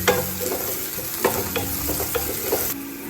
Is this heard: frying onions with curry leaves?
yes